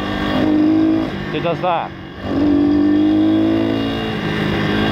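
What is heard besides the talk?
pit bike engine revving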